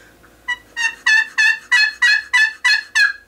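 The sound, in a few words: turkey call imitating turkey gobble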